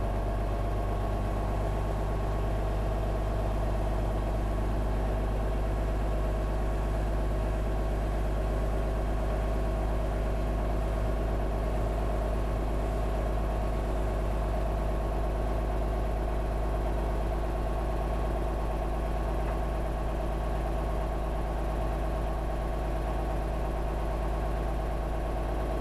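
A truck's engine runs steadily at up to 1,000 RPM to build air brake pressure, giving a constant low drone and rumble that holds unchanged for the full stretch with no talking.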